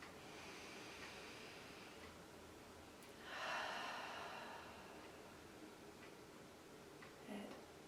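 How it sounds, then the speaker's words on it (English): A single deep breath drawn in a quiet room, soft and close, rises as a brief airy inhale and then fades back into near silence. "So take a deep breath to start."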